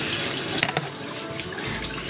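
A cutting board is rinsed under a running kitchen tap, a steady close splash of flowing water with brief clatters as the board shifts beneath the stream.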